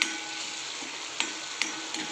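Coriander sizzling in hot oil for a dal fry tadka, a continuous bright frying hiss with a few light clicks of stirring, close and moderately quiet, no talking.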